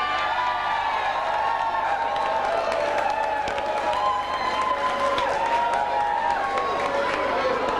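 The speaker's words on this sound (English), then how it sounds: "Would you give a nice big round of applause," Crowd applause and cheering at a 1995 Neale Festival gathering in Cong for performer Dorothy Walsh, a steady dense wash of clapping with whoops, sustained throughout at even loudness.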